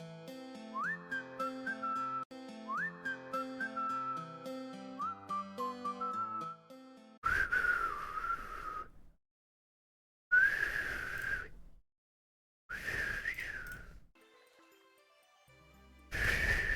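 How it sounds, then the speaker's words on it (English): A person whistles a short melodic tune in several repeated phrases, clear and close, followed by a few loud noisy bursts with silent gaps between them. "Whistling after dark is bad?"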